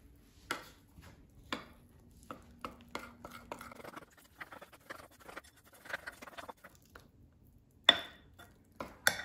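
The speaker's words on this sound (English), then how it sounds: "I'm going to mix until combined" Brownie mix batter being stirred in a bowl, faint scraping and tapping strokes of a utensil against the bowl in quick irregular bursts, quiet and close with no talking.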